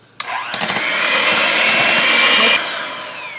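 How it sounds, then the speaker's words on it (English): An electric blender whirs steadily for about two and a half seconds as it mixes coconut into a pie filling, starting abruptly and cutting off sharply, loud and close with no talking. "with a blender, I'm going to blend it in a little bit to make sure that it mixes all around"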